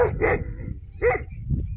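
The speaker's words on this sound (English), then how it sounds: "the dogs are complaining at the pigs" Dogs barking at pigs at an off-grid cabin site outdoors, three sharp, fairly close barks in quick succession with a fainter yip at the end, over low background rumble.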